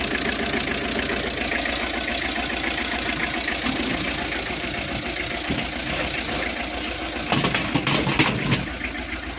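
A 2018 Tata Ace mini truck engine idles steadily with a rough, chattering diesel knock, close and constant, with a few brief clunks near the end.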